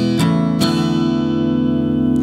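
Two quick strums on an acoustic guitar open a song intro phrase, then the chord rings on alone, close and clear, slowly decaying.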